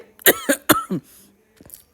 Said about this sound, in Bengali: সরি, বারবার কাশি উঠছে